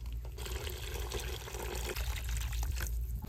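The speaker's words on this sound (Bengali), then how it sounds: "এবার জল দিয়ে দেবো" Water is poured into a pan of fish curry with taro and mustard-poppy seed paste, a short close splashing fill over a low, steady background rumble.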